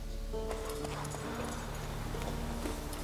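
Horse hooves clip-clop steadily across a bridge in The Witcher 3: Wild Hunt, a continuous rhythmic trot set against game music and ambience, with no talking over it.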